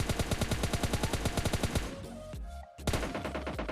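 Rapid automatic gunfire in the mobile shooter PUBG Mobile Lite, a fast rhythmic burst of close shots that pauses briefly near the end, then resumes, with no voices over it.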